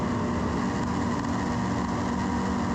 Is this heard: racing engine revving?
yes